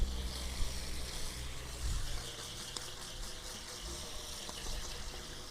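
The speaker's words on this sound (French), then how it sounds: "On déconnecte le tuyau, on s'assure de bien le vider et on rince à l'intérieur" Water rushes steadily through the inside of a disconnected camper sewer hose at high pressure, a continuous gushing wash that stays fairly even from start to finish with no talking.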